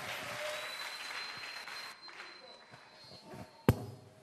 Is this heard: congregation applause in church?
yes